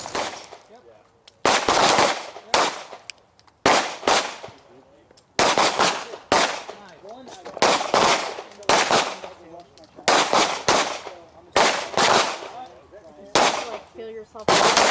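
Pistol fire on an outdoor shooting range from red-dot-sighted handguns, heard as loud, close bursts of rapid sharp shots in quick strings separated by short pauses.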